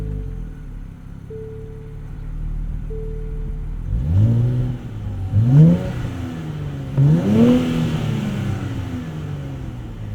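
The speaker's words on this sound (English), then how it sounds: "the automatic cars have a little bit of a spicier exhaust note than the manual cars" A 2024 Nissan Z Nismo with automatic transmission, heard from inside while driving: a steady engine drone gives way to three rising revs, each swelling and dropping back as the car accelerates through gears.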